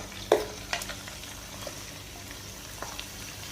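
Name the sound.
meat frying in a pan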